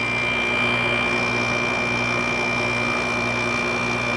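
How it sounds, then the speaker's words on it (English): A window air conditioner's LG compressor hums steadily and loudly throughout, with a constant droning tone and whirring mechanical noise and no pauses or voices, in a 2006 General Electric 5150 BTU unit. "LG compressor. It really sounds nice. Sounds pretty good. Really quiet."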